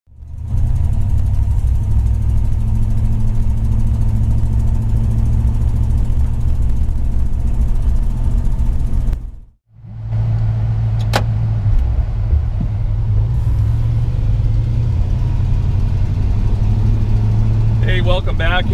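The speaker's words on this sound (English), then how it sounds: "Here we are out cruising the 60 Fury." A 1960 Plymouth Fury cruising on the road, with a steady low engine drone heard from inside the car that dips briefly midway and then resumes evenly, along with faint cabin noises.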